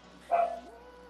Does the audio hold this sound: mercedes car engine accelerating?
no